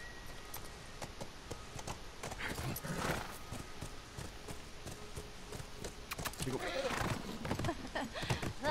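A horse clip-clops steadily in The Last of Us Remastered, the hooves beating at an even rhythm with a brief whinny, while someone talks over it.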